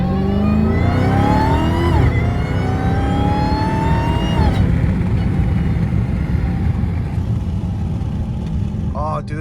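Dodge Hellcat Redeye engine with an aftermarket intake revving hard through rising gear pulls on a canyon road, loud and close, with supercharger whine climbing before easing off; occasional voice underneath.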